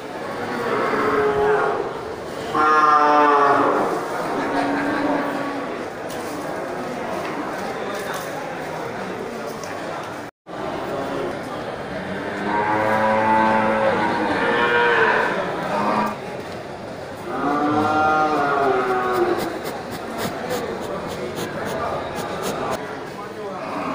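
Water buffalo moo repeatedly at a livestock market among cows and calves, several long drawn-out calls near and loud over a steady crowd murmur and background talk.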